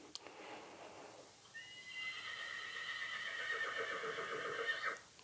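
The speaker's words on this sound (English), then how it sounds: "That horse isn't very happy either, is it?" A horse whinnies, one drawn-out neigh rising in the middle and trailing off toward the end, fairly close and loud over a quiet background with faint hoof-like clatter.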